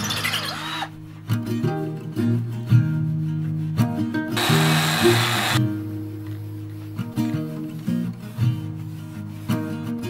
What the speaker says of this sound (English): I'm going to drill this out and open that hole up